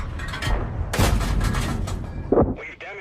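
Tank cannon fire rings out in the video game World of Tanks, a heavy boom with a rumbling tail followed by further blasts and battle noise, loud and close, with a brief game voice near the end.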